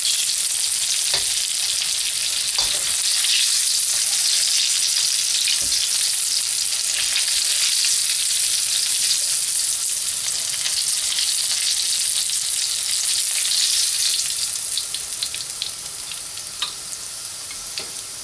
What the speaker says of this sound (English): So I'm going to remove them into an oven-proof dish and fry up the next batch.